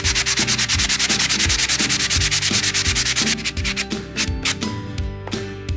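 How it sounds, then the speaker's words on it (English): Sculpt wood putty used in an epoxy rot repair is sanded down with fast, steady back-and-forth strokes. The rubbing is loud and close and runs without talk before it slows into separate scrapes. "It's overfilled, like I said, so we're going to sand it down a bit."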